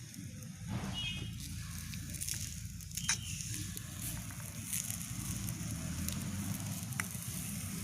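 Chopped onions sizzle steadily in a hot pan with oil while being stirred, a continuous close frying hiss with occasional scrapes and no voice.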